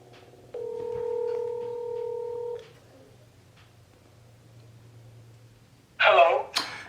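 Telephone keypad dialing tones for a call: a steady dual-tone beep held for about two seconds, then a quiet pause before a brief louder burst of ringing or line noise at the end.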